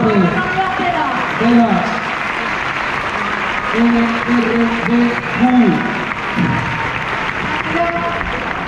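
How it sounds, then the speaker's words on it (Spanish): Crowd applause at a Spanish National Police exhibition of guide dogs and the TEDAX bomb squad, a steady outdoor clapping wash running under a loud announcer's voice shouting over it. "¡Fuerte el aplauso para muy ellos!"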